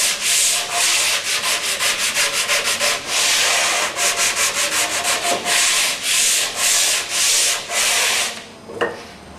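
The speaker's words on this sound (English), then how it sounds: "sand it with 80 grit sandpaper to generally smooth it off and to get rid of the planing marks" Steady, loud strokes of 80 grit sandpaper rasp back and forth across a wooden rocking chair headrest, a dense rhythmic scrubbing that runs continuously up close and stops near the end.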